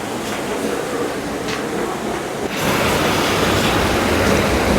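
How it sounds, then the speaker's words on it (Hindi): A waterfall pouring fast down from the hills near Bhangarh, a continuous loud rushing roar of water that swells stronger midway as if heard from closer, with no talk. "ऊपर से पानी कितना तेज़ बहाव करके आ रहा है"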